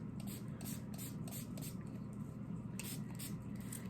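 Paint sprayed onto a tie-dye t-shirt makes repeated short hissing bursts in an uneven rhythm, close and fairly soft over a low background hum.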